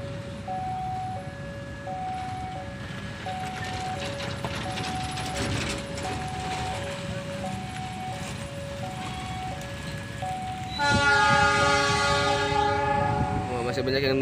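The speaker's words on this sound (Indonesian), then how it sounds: "Ke parcel double lokomotif nih, yang di depan CC206 dan yang belakang itu kayaknya CC201 atau 3 nih." A parcel train hauled by double locomotives, a CC206 leading and a CC201 behind, departs Cicalengka station. Level-crossing bells ring in a steady alternating two-tone pattern over the rumble of rolling wagons, and a loud horn sounds near the end.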